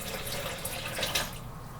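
Filtered water poured from a tap into a blender holding rinsed oats, a steady close hiss and splash that runs the whole time with no pauses.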